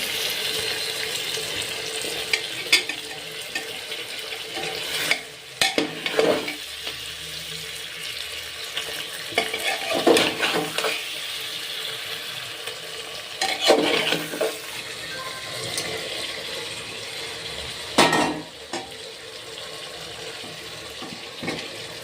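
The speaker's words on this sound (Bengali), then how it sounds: "ভালো করে কষিয়ে নিয়েছি চর্বি আর আলুটা" Mutton is stir-fried in a pan with potatoes and fat, producing a steady sizzling hiss broken by repeated scraping and stirring strokes. It is close and fairly loud, with no one talking.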